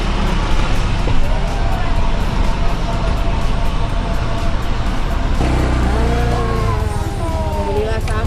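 A motorbike engine droning steadily while riding on the road, loud and continuous with wind rush, as voices talk over it.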